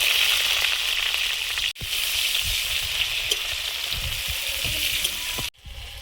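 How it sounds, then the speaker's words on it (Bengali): Potatoes fry in oil in a kadai, a steady close sizzle that runs without letup, broken by two brief pauses with a few soft stirring knocks underneath. "আলুগুলো দিয়ে ভেজে নেব।"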